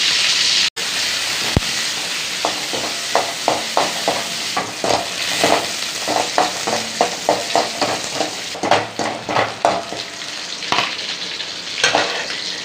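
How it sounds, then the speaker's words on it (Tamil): Mustard seeds and small onions fry in oil, giving a constant close sizzle broken by a quick, regular run of scraping stirs and crackles, with no talk. "ஒரு கடுகு போட்டுக்கோங்க. சின்ன வெங்காயம் போட்டுக்கோங்க."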